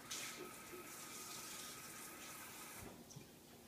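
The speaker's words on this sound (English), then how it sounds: "you simply get it wet under a running tap" Water from a running tap pours steadily onto a cleaning cloth, a continuous close hiss and splash with no voices, easing off near the end.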